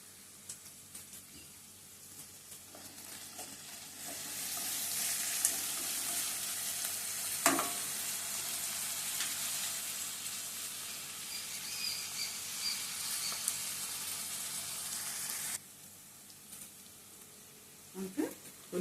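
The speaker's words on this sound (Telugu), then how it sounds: "ఉల్లిపాయ ముక్కలు కట్ చేసి పెట్టి ఇవి మనం కొద్దిగా ఎర్రగా వేగనిద్దాం." Onion pieces for prawn biryani fry in a pan, a steady, close sizzle that swells and holds, broken by a sharp stirring clack and light scraping near the end.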